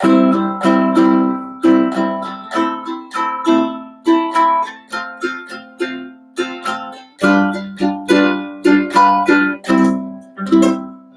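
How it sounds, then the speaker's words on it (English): An acoustic guitar is strummed in a rhythmic pattern of down and up strokes, chords ringing loud and close with short pauses between groups. "Strumming it would be."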